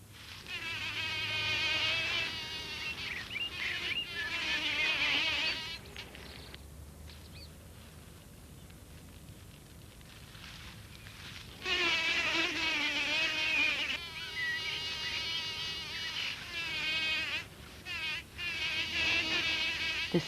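Insects buzzing near frogs, with honeybees the likely source, in a small garden habitat: high, harmonic whining drones rise in long bursts, drop away to near silence, then return loud and close in several passes.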